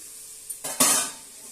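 Raw chicken pieces hit hot spiced oil for chicken and potato curry, bursting into a loud, close hiss that swells sharply and then eases, with a faint clink of utensils just before.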